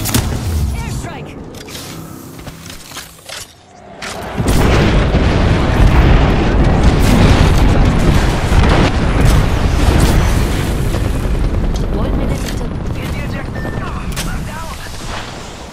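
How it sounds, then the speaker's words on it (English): Heavy airstrike explosions pound continuously in Apex Legends, a loud, dense barrage of overlapping booms and rumbling blasts sustained for many seconds after a brief quieter lead-in. "Airstrike!"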